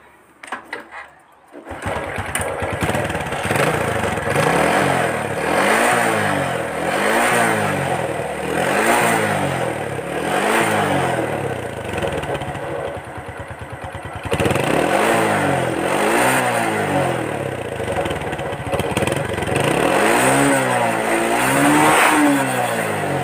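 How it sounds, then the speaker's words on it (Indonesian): A motorcycle engine fires up after a brief quiet moment, then its exhaust is revved hard again and again, each throttle blip rising and falling in a loud, close, rhythmic roar. "Kita hidupkan kembali, kita coba geber-geber knalpotnya."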